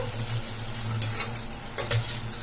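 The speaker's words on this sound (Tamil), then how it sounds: "இது வந்து நல்லா ஆயில்ல ஃப்ரை ஆகி வரட்டும்." Rava bondas fry in hot oil with a steady, close sizzle, broken by a few brief clinks of a spoon or ladle at the pan. No one speaks.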